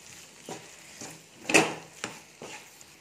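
Fried soya chunks stirred into masala in a pan, heard as a few soft scraping and clinking strokes at an uneven pace, with one sharper clatter in the middle, close and fairly quiet.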